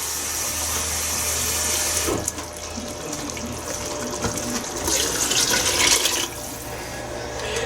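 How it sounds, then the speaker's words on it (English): Water running from a kitchen tap into a cooking pot for beef curry, a steady close rushing stream that shifts in tone as the pot fills, with no one speaking. "I've got to put some water in."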